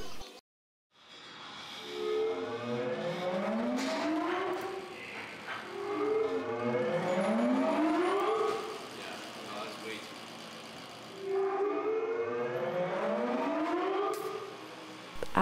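A Hagglunds hydraulic motor runs on a test stand, giving three rising whining sweeps like a siren that repeat in cycles and fade between, heard close and fairly strong.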